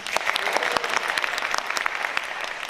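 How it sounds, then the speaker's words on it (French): A room full of people at an eloquence contest final in Bordeaux claps loudly and continuously, a dense burst of applause at close range with no voices. "applaudissez maintenant"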